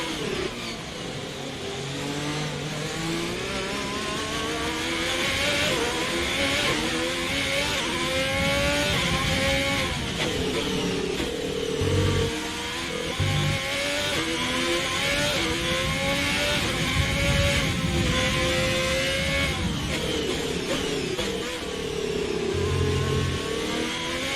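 Formula 1 race cars in the F1 2020 video game on the Canada circuit, engines screaming and revving continuously as cars race close together, loud and sustained with gear-shift pitch swoops.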